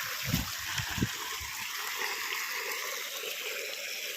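Irrigation water runs through a farm field in a steady, broad rushing wash, with a few soft low thumps and splashes near the start and no talk over it.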